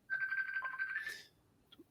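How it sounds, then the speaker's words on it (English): A Facebook Messenger call ringtone on a phone, a short rapid run of bright electronic tones lasting about a second in a quiet room, then cut off. "Why is someone calling me on Facebook Messenger?"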